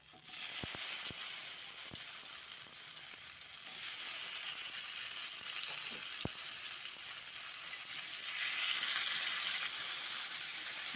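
Okra going into hot oil in a hotel-style home kitchen, a steady broad sizzle of frying that holds for the whole stretch with a few sharp ticks and pops near the start and a brighter surge toward the end.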